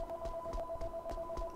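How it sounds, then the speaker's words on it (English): Telephone ringing in the background of a room, a steady electronic tone repeating in short pulses, fairly quiet and continuous, ending with a brief louder knock. "Please also ignore the phone in the background."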